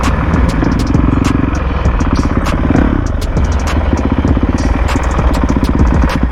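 A Honda CRF450R dirt bike engine thrums loud and close on a canyon off-road ride, a continuous rough, pulsing four-stroke drone with clattering ticks throughout.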